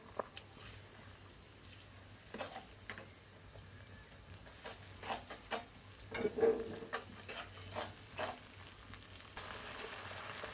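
Chili powder, turmeric, salt and ginger-garlic paste frying in hot oil for a village-style rohu fish curry with stems and jackfruit seeds, a steady soft sizzle broken by scraping stirs and clinks of a spoon against the pan, no talk.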